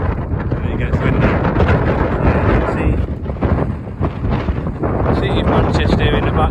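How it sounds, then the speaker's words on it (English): Strong wind sweeps across the Kinder Scout plateau high on the Peak District moors, buffeting the microphone with a loud, continuous roar that surges and dips slightly throughout. "it gets windy"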